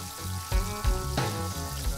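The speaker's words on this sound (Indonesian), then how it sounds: "Gorengnya kudu sampai super garing crunchy." Chicken skin satay deep-frying in hot oil until very crispy, a steady close sizzle with a few louder bursts of bubbling as pieces shift.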